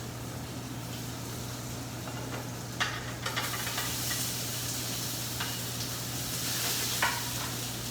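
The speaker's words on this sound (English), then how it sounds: "when the big pan smokes, we go in with the potatoes and get them nice and crispy" Chopped roasted potatoes fry in a smoking-hot oiled pan with a steady, dense sizzle, and a few sharper crackles and stirring scrapes rise above the hiss.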